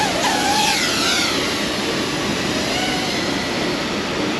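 A waterproof FPV drone flies near a cliff-jumping spot at a pool, its motors making a continuous loud whirring buzz that fills the whole stretch with a brief rising whine near the start.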